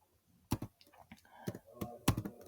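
Typing on a computer keyboard while entering Python code: a handful of sharp, separate key clicks and taps with pauses between them, close and fairly quiet.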